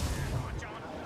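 Ship cannons fire in the Assassin's Creed Rogue video game, a heavy, booming low burst at the start that rolls off into a rumbling decay, with a voice briefly audible.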